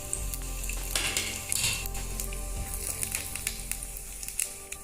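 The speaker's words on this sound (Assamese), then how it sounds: "ইয়াতে মই এতিয়া 3টা তেজপাত দি দিছোঁ, আৰু সৰু চামুচৰে 1 চামুচ মই গোটা জিৰা দিছোঁ।" Three bay leaves and a spoonful of whole cumin sizzle in a hot pan for mutton gravy, a steady crackling fry with scattered sharp pops and a few utensil clinks, close and continuous.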